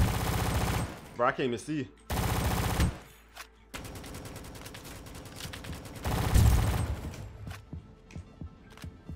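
Bursts of automatic gunfire from the Roblox shooter Rolling Thunder, several loud sustained volleys separated by short pauses, with a player talking over the shooting.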